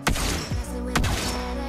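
Lesley's sniper rifle firing in the Mobile Legends video game: two sharp, loud synthetic shots about a second apart, each with a quick crack and a short ringing tail, heard alone.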